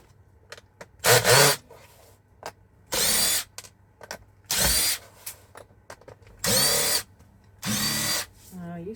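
Power tool backing out stubborn, odd-sized screws while scrapping: five or six short, loud whirring bursts separated by quiet pauses and faint handling noises, close up.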